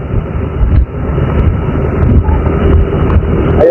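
Strong wind roars steadily throughout a sailboat race, a loud, continuous broadband rush with gusty low-end buffeting, dipping briefly before surging again.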